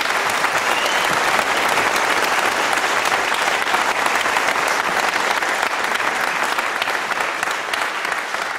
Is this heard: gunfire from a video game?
no